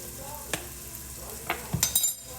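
Garlic and onions cook in a soup pot for chicken tortilla soup, with a soft steady sizzle under a few stirring scrapes and light clinks of a utensil against the pot, with no talk.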